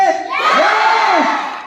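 Crowd at a training session in Jabalpur cheering and shouting loudly as a speaker is called to the stage, a dense roar of many voices with rising whoops, close and sustained.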